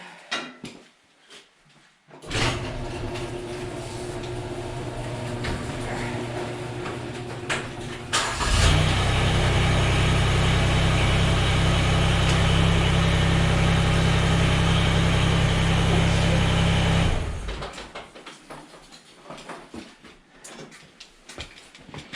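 Mahindra eMax 20s HST tractor engine cranks and starts, then runs at a steady idle that gets louder and fuller partway through before cutting off, close by with no talking.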